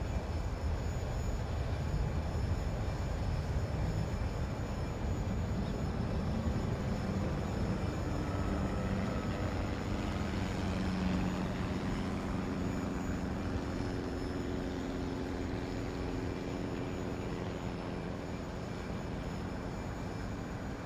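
A Bombardier Challenger 300 business jet taxis at Barbados in X-Plane 11, producing a steady, loud jet-engine roar and whine that holds throughout with a slight swell midway, no voices.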